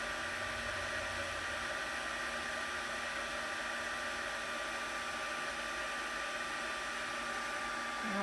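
Heat embossing tool blowing steadily to melt embossing powder on a stamped card, a continuous loud airy whoosh like a small hair dryer held close, running alone for the whole stretch.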